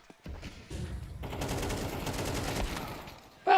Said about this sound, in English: Also helps to have people firing shots